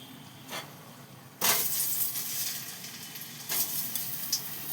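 Boiled potatoes fry in a pan for biryani, giving a steady sizzling hiss that jumps louder in sudden bursts as they are stirred, with no talk over it.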